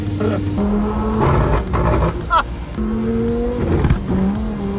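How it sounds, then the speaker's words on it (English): A race car engine roars from inside the cabin at a race track, its pitch dropping and climbing again as gears change while fuel is dumped into the exhaust, with voices talking over it. "It just dumps fuel into the exhaust and then changes gear afterwards"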